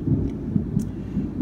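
Thunder rumbles low and steady after a lightning flash on an afternoon storm, a deep rolling boom that lasts throughout.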